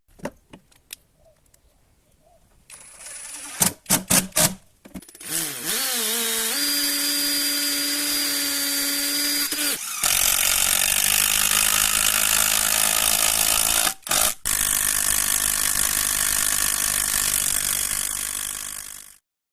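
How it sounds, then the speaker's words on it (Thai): A PUMPKIN 50438 16V cordless impact drill and impact driver set whirs up and runs loud and steady for several seconds, after a few sharp mechanical clicks and rattles, with a brief stop near the end. "สว่านกระแทก แล้วก็ไขควงกระแทกไร้สาย"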